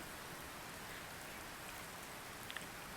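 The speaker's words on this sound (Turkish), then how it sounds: "asit yağmuru yağıyor" Acid rain in the Roblox game Camping falls as a steady, even hiss with no voices, and a couple of faint drips stand out near the end.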